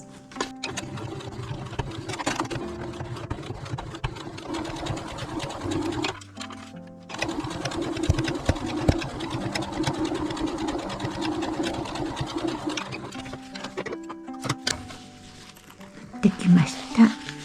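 Sewing machine edge-stitching a fabric zipper pouch, a rapid close mechanical whirring in two long runs separated by a short pause, with small handling sounds at the end.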